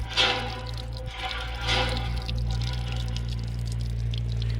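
Water gushes steadily from a village hand pump, a continuous splashing pour over a low, constant hum.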